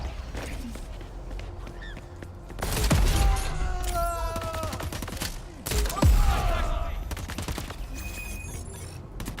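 Gunfire in Crackdown 3 plays in bursts over a busy game soundscape, with a loud volley near the start and another sharp crack midway, plus scattered smaller pops.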